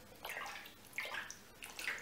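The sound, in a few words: skimming paint off water surface with cardstock or skewer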